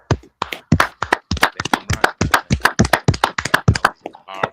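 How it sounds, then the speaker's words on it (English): Crisp, rhythmic group clapping at a brotherhood and sisterhood class, sharp claps struck in a steady driving beat, close and loud, with a brief pause and a few scattered claps near the end. "Clap it up, clap it up, clap it up."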